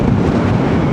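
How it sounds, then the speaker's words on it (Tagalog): Loud wind buffeting the microphone in a steady, roaring rush with no voices, beside a fishpond on an airport construction site near Manila. "Lakas ng hangin mga kaibigan."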